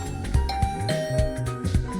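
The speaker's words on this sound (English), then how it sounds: "Now you rang the doorbell to Tsubasa's room" A doorbell chimes at a dorm room door in The Hundred Line: Last Defense Academy, a short melodic ding-dong with bright tonal notes over game music, heard alone without talk.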